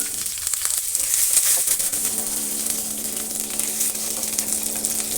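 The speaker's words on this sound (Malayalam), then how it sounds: "നന്നായി ഫ്രൈ ചെയ്യുക." Urad dal, dried red chillies and curry leaves fry in hot oil, giving a steady close sizzle and crackle that holds level for the whole stretch with no talking.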